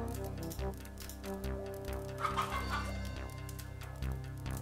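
A chicken in the video game DreamLand: Final Solution clucks repeatedly in short bursts over a steady droning game background, loud and close.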